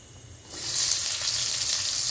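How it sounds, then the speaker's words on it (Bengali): Chopped onion tipped into hot oil already seasoned with whole cumin and bay leaves for a chicken curry, a quiet bed of oil that swells into a loud, steady sizzle after a moment. "পেঁয়াজ কুচিটা দিয়ে ভেজে নেব।"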